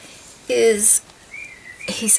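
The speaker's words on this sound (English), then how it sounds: "Can you hear my bird? I just realised he's whistling his head off down there." A pet cockatiel whistles and sings indoors, a thin sustained whistle mixed with short chirpy bursts. It sits fairly faint at moderate distance, and a person's voice is heard around it.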